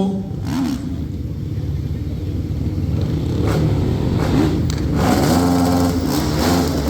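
Rally motorcycles tear through a whoop-de-doo section of a dirt track, their engines revving and rising and falling in pitch in a loud, continuous roar with no break.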